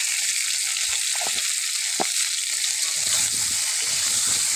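Pieces of country chicken fry in oil with salt and turmeric, a steady loud sizzle with occasional spatula scrapes and knocks as the pieces are turned.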